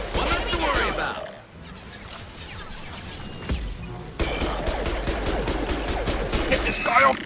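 Bursts of gunfire in the Mass Effect 2 game, from Mass Effect: Legendary Edition, crackling in and out over several seconds with a sharp burst near the middle, mixed with character voices and combat noise.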